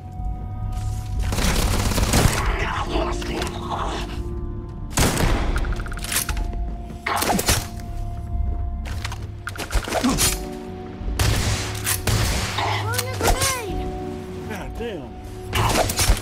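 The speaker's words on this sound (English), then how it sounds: "Her tossing them grenades?" Grenade blasts and gunfire in Starfield, with loud booming explosions and cracking shots in repeated bursts, debris and shattering tails between them, and a steady low game hum underneath.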